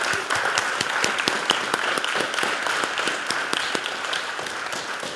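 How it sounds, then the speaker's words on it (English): A small group at a school event claps steadily for several seconds, the applause close and even with a few sharper individual claps standing out. "Give a round of applause."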